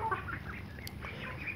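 Chickens and young birds on a poultry farm clucking and cheeping close by, several short overlapping calls with a light flutter, no people talking.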